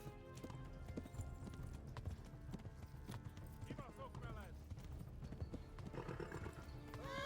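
Steady clip-clop of horse hooves at a quick pace with an occasional whinny, under a constant low rumble and faint talking, in the video game Kingdom Come: Deliverance.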